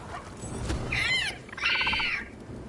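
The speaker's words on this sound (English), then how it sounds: "Follow the squawks." Griffin squawks in the fantasy video game Dragon Age: The Veilguard, two shrill warbling calls in quick succession over a steady game ambience, fairly loud and close with no talk.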